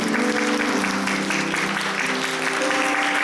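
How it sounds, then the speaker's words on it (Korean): A church congregation claps steadily, dense and continuous applause that holds at an even level throughout. "박수로 환영해주시기 바랍니다"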